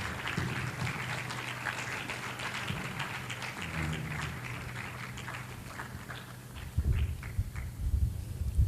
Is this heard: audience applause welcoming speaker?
yes